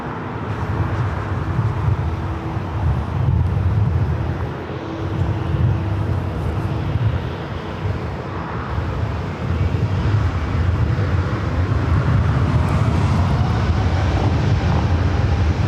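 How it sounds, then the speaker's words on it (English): Jet airliner bound for Frankfurt on its takeoff roll from runway 24 Left at Los Angeles International, a steady loud broadband engine roar with low rumble sustained throughout, wind buffeting the microphone, no talk. "All right, already cleared for takeoff. The flight heading back to Frankfurt there in Deutschland. Lined up there on 24 left."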